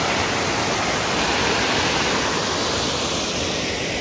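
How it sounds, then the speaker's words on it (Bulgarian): The Bistritsa river rushes loudly past power generators it drives, a dense, constant roar of churning water that fills the whole span without a break. "се стига до река Бистрица, която всъщност задвижва тези генератори за ток"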